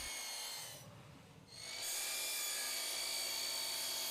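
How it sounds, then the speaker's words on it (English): A miter saw makes 45-degree cuts through PVC or WPC deck frame boards, a loud, steady high-pitched whine that drops briefly mid-cut before surging back at full volume. "set my miter saw to make a 45-degree cut, cut miters on both ends of the first frame piece"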